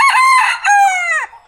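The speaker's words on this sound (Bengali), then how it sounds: "মোরগ ডাকে।" A village rooster crows once at dawn, one loud close call that rises, holds and drops away over about a second.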